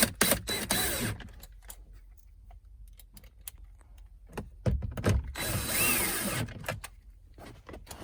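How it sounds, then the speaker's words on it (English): Screws being driven back into the cabin air filter cover of a 2015-2020 Ford F150, heard as close ratcheting and mechanical clicks in short bursts, with quieter handling noises between them. "we can then get our screws we removed, put them back in these locations"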